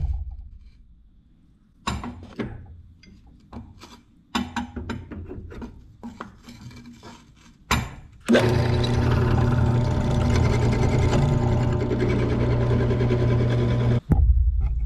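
A Bauer 10-inch drill press bores through thick metal tubing, starting with scattered clunks and handling noises before a loud, steady motor whine and grinding cut runs for several seconds up close, then abruptly stops.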